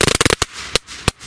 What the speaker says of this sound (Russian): Микропетарда.